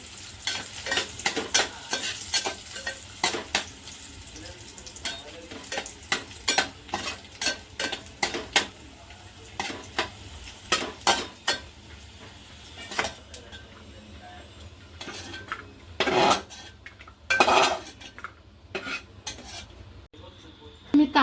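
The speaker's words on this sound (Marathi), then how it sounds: "हा सुका मावा आपण छान असा तुपावर परतून घेऊया" Dry khoa (mawa) sautéing in ghee sizzles softly while a spoon scrapes and clinks against the pan in steady stirring strokes, close up and continuous, with occasional sharper metal knocks.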